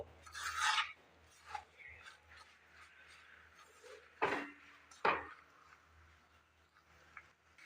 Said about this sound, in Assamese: এইখিনি মই ল' ফ্লেমত এইদৰে ভালদৰে মিলাই ল'লোঁ।